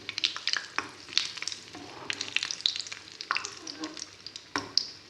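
Spoonfuls of snack batter fry slowly in a pan over lowered flame, giving a soft, crackling sizzle with scattered pops and light clinks, close by and fairly quiet.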